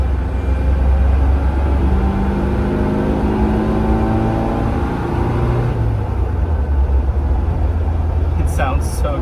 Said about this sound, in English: you can really hear the carburetor in the car.